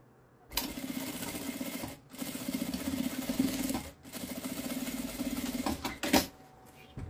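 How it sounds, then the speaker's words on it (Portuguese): A sewing machine stitches fabric for a small iron holder bag, running in steady buzzing bursts of about a second and a half, then two seconds, then two seconds, with brief pauses between them, close and loud, no talk over it. "Passa uma costura aqui."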